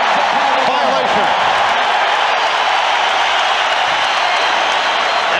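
Crowd noise roars at a 1993 NBA Finals Game 4 between the Chicago Bulls and Phoenix Suns, a loud, constant wash of arena voices beneath a commentator's talk.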